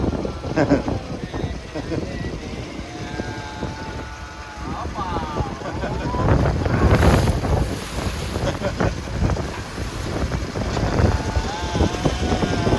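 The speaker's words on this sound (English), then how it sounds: "But the locals say it is huge, huge wind. Unusual wind." Strong, gusty wind near Luxor, Egypt, roaring continuously and buffeting the microphone, with a boat engine droning beneath it and people talking throughout.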